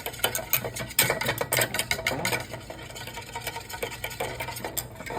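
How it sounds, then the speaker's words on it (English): A balloon whisk beats eggs in a bowl to temper them for a pasture-raised sheep milk banana pudding. The whisk makes a steady, rapid, close clatter that runs throughout with no talking. "I should not have used my balloon whisk."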